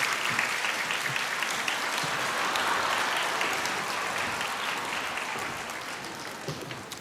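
Church congregation applauding to welcome singers about to perform a special hymn, sustained even clapping from a large room that holds steady for several seconds and tapers slightly.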